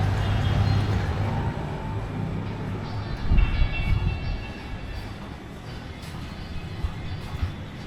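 A train at a railway station in Colombo, its low steady rumble and rolling rail noise filling the scene outdoors at moderate distance, continuous with a brief louder swell midway.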